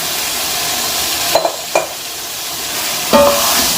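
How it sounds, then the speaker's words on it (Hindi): Chickpeas and spices fry loudly in a big pot for chana pulao, a strong steady sizzle broken by a few scraping, clanking stirs of a spoon against the metal. "और इसको अच्छे तरीके से मिक्स करेंगे मसाले भुनने तक।"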